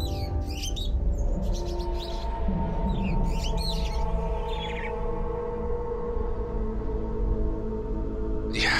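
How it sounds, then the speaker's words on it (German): Game audio from the pirate video game Raven's Cry, with a raven's squawks and chirpy calls over a constant musical and ambient game background, the bird cries arriving in short bursts early on. "Guck mal, das ist mein Rabe."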